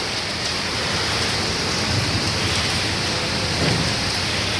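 Heavy rain pours down in a steady, dense hiss, with faint low rumbles beneath it. The downpour stays constant for the whole stretch, and no voices are heard.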